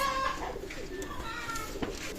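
Pigeons coo softly at a loft in Daulatpur, Khulna, Bangladesh, with low murmuring calls repeating over a faint, steady background.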